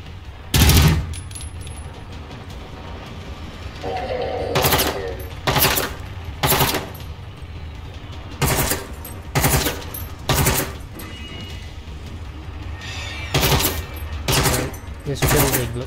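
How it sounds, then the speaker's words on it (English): Video-game gunfire in short bursts of several shots each, spaced a second or two apart, loud against a quieter background of ambient game sound. "He's getting shots on me, but I'm not seeing a clear shot on him."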